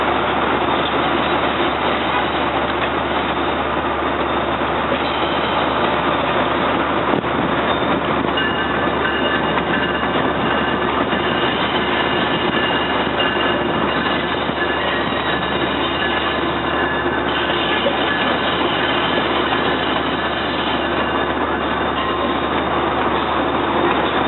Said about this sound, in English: AM engine 925 coming into 30th Street Station here.